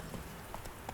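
Roach, the horse in The Witcher 3, trots with soft rhythmic clip-clop hoofbeats, faint and steady, over a low ambient background.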